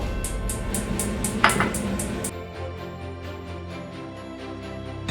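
Butter goes into a pot on the stove to heat for a roux for white spinach lasagna, with close metallic clinks of pot and utensil in the first half, then a quieter, steadier hiss-like background as the pot warms.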